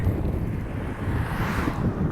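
Strong wind buffets the microphone in a dense, continuous roar with no voices.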